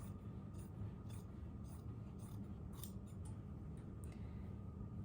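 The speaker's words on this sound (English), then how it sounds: "I'm just gonna cut with my scissors" Quiet, crisp snipping of scissors cutting fabric, repeated several times in a steady rhythm, close up against a low background hum.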